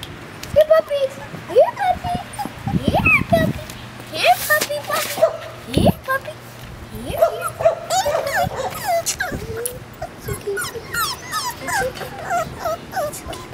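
Five-week-old puppies whimper and yip in high, thin bursts that repeat throughout, close by, while people talk over them.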